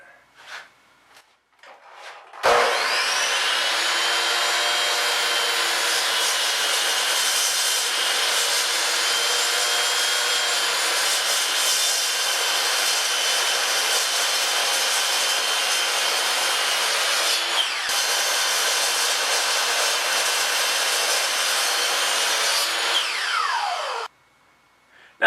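Wood being cut for a 5-degree bevel on a wooden mallet head, a loud steady machine whine running unbroken for about twenty seconds after a few brief knocks, then stopping abruptly.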